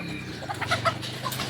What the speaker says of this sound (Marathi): हे बघा सकाळची वारी बघा एवढ्या कोंबड्या आहेत बघा.